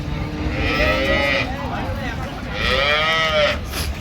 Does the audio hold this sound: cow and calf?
yes